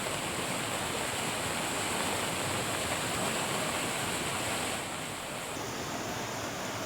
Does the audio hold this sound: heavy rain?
yes